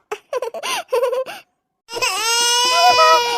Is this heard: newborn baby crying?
yes